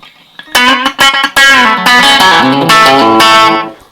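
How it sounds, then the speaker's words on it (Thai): A 1978 American Telecaster electric guitar plays through a distorted effects unit: bright, sustained chords and short phrases with a few brief pauses, loud and close, without talk. "เทเลเสียงโบราณต้องเสียงแบบนี้นะ"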